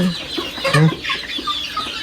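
A few short clucking calls from a junglefowl, fairly close, with one louder cluck in the middle over faint background noise.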